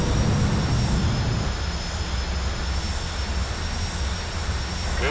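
A jet fires off an aircraft carrier catapult in the combat flight game aimStrike: a loud, steady engine roar with a broad rushing hiss that holds unbroken from start to end, with no talk.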